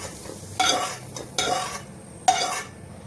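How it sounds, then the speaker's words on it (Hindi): Cauliflower and potatoes stir-fried in a pan: three distinct scraping strokes of a spatula against metal, close and crisp, with a soft low sizzle between them and no voices. "बस हमें यही ऐसे ही गोभी भूनना है।"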